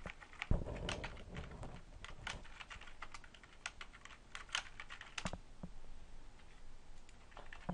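Quiet tapping on a computer keyboard while a password is entered, an irregular run of light clicking keystrokes close by, with no voices.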